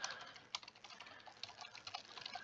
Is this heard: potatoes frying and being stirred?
no